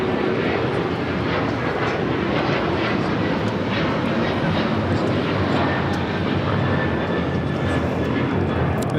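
United Airlines Boeing 737-900ER taking off at Los Angeles International, its jet engines producing a loud, sustained roar that holds steady throughout, with faint crackling texture on top.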